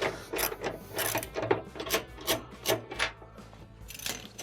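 Metal wrenches ratchet and grind in short, repeated bursts while loosening the bolt on a clothes dryer's drum roller, close up with a rough, rhythmic rasp.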